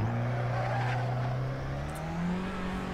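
A race car laps a track in the Assetto Corsa driving game, its engine droning steadily and climbing slowly in pitch as it accelerates, with faint tire noise, continuous and close, no talking.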